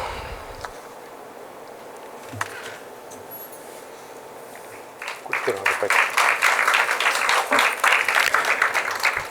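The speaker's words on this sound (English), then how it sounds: "Let us give her a very big applause." Applause from an audience at a Carnatic music trust event honoring a vocalist swells up after a few seconds of quiet room murmur, then holds as dense clapping to the end.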